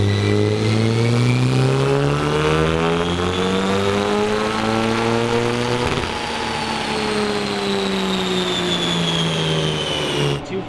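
Built, high-compression turbocharged 1.6-liter engine on a dyno revving steadily upward through a long loud pull, its harmonic whine climbing in pitch, briefly stepping back near the middle, then climbing again before cutting off at the end.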